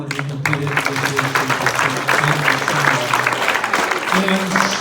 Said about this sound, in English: Big round of applause for everyone who competed in this year's